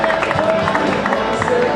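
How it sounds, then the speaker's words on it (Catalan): A crowd claps and cheers continuously for a prize winner at a cycling race awards ceremony in Canals, a dense, steady wash of applause at close range. "Un aplaudiment per ell."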